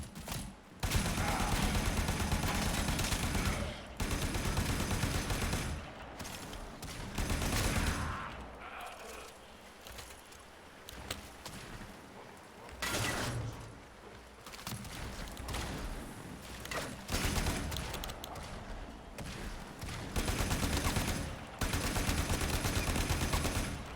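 Gunfire in the video game Warframe comes in sharp automatic bursts and volleys, separated by brief pauses and quieter stretches, with no talking.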